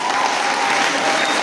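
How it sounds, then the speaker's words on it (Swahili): Audience clapping at a Sunday school children's drama and culture competition, a steady, dense burst of applause heard alone with no break. "Hebu tuwapigieni watu wa Turi makofi."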